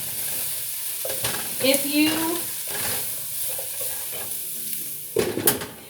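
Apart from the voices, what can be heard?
stirring vegetables in a frying pan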